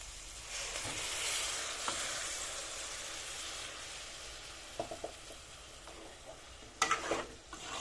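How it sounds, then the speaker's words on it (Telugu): Rinse water from a mixer jar is poured into a pan of sizzling broad bean curry, raising a steady broad hiss that fades gradually, with a few light clinks of a utensil near the end. "మిక్సీ గిన్నె కడిగినాం కడిగిన వాటర్ పోతున్నా"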